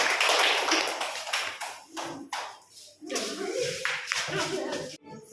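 Schoolchildren in a government school classroom clap as a group in a busy, uneven burst, with voices talking over and between the claps before the sound cuts off abruptly.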